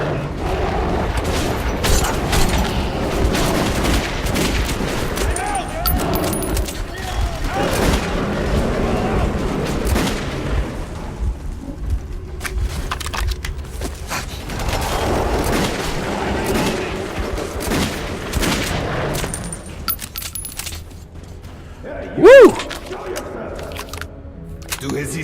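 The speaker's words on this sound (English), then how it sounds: "I'm shooting off rounds compulsively here" Repeated rounds fired in Metro 2033 Redux, irregular bursts of shots echoing through the scene, with someone talking over much of it and a short sharp crack near the end.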